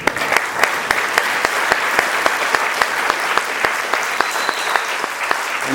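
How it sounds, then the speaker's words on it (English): A graduation audience at a high school ceremony bursts into sustained applause, dense clapping continuing steadily throughout with some sharper individual claps standing out. "a big round of applause."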